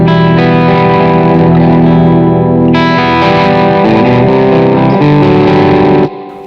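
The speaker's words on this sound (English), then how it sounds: "let me just start with some clean tones of the Ibanez guitars when having set the pickup to the active mode" Ibanez electric guitar with Fishman Fluence pickups switched to active mode, playing sustained chords that ring through effects with reverb, loud and close, ending with a brief cutoff.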